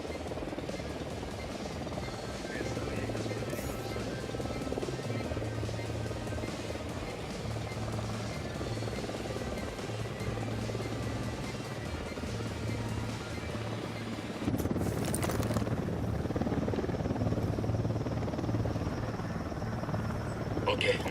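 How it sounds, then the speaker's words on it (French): Helicopter in a shooter game, a continuous rotor and engine rumble with a pulsing low thrum, growing louder after a sharp burst midway, under faint game noise without clear talk. "Hélico, baissez-vous."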